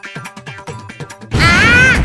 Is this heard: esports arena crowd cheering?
no